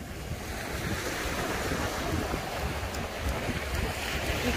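Ocean surf washes steadily onto a beach in a continuous roaring rush, loud and close, with gusts of wind buffeting the microphone and no voices.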